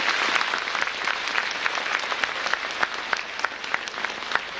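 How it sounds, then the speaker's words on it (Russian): An audience applauds at a 1990s provincial television programme, with dense, continuous clapping and sharper individual claps standing out, and no talking. "Аплодисменты, пожалуйста."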